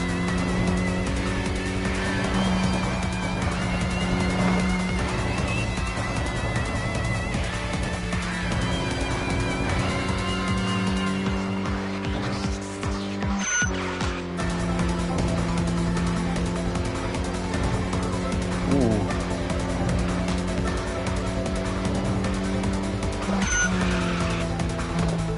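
A car drifts in the video game Tokyo Xtreme Racer with a continuous engine drone and stretches of tire squeal, loud and steady for the whole stretch.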